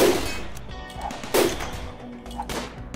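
Gunfire in a RimWorld video game battle: a few sharp, loud shots spaced irregularly across the moment, each a brief broadband burst standing alone without talk.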